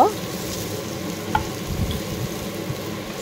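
Whole potatoes fry in spiced masala in a pan with a steady close sizzle and crackle, plus occasional scraping and stirring sounds.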